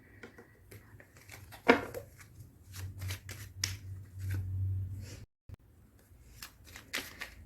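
Cards shuffled by hand for a card reading, giving quick riffling bursts and sharp snaps close by, with quiet gaps between and a low background hum.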